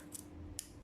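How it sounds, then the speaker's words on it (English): Fabric snipped with scissors at a curve while sewing a patch pocket with flap: two quick, close, crisp snips about half a second apart. "So we are going to snip opened"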